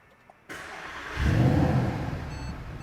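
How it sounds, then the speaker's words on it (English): A Mercedes-Benz SLS AMG engine cranks via push-button start and fires up after a short pause, swelling into a loud, deep roar before settling into a rumbling idle. "hit this engine start button"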